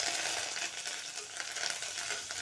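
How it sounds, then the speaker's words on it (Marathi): Coriander dropped into hot oil tempering for shev bhaji, a steady bright sizzle and crackle of frying close up, with no talking. "थोडीशी कोथिंबीर टाकते मी आता फोडणीला."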